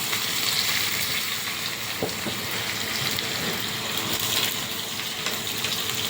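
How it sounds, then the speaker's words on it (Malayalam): Five or six chopped small red shallots frying in hot oil for a drumstick curry, a steady close sizzle running evenly throughout with no voices. "ഇതിൻ്റെ അകത്തേക്ക് നമ്മളൊരു 5-6 ചെറിയ ചുമന്ന ഉള്ളി അരിഞ്ഞത് ഇതും കൂടെ ഇട്ട് കൊടുക്കാം."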